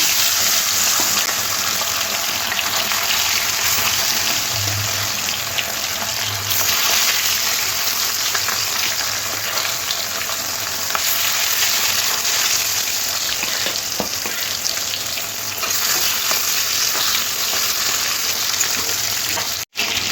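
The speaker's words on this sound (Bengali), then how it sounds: "তেলটা খুব ভালো গরম হয়ে আসলে মাছগুলো তেলের মধ্যে দিয়ে ভেজে নিই" Steady, loud sizzling of catla fish frying in hot oil, a continuous crackling hiss that runs the whole time with no talking.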